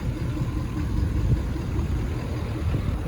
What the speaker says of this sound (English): Love the sound of that turbo diesel.